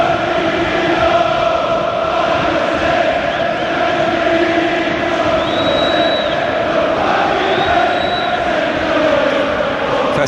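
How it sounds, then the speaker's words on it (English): A football crowd cheers and chants festively throughout a Premier League stadium match between Aston Villa and Manchester United, a loud sustained roar with no break. "Festive cheer"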